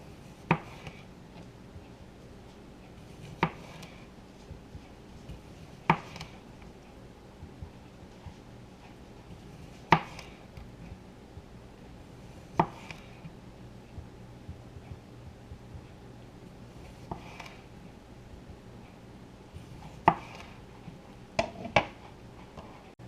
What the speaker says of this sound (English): Okay, we've chopped up all the cucumbers.